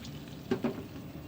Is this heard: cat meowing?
no